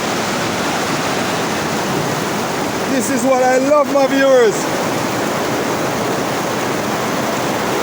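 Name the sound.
running water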